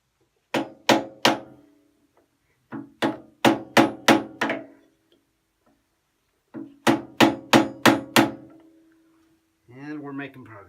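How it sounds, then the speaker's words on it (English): A hammer strikes a steel rod to punch bearings out of a Woodfast wood lathe, with three bursts of loud, ringing metallic blows, three to five hits each, close and evenly spaced, then a short voice at the end. "Okay, so we're going to try and punch those bearings now"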